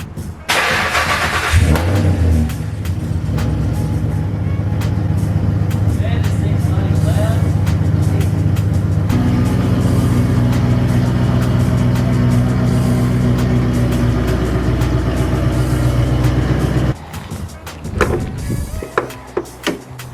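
A dead Nissan R33 Skyline cranks and fires after a jumpstart, then settles into a loud, close idle that rumbles for about fifteen seconds before cutting off. Voices can be heard around it.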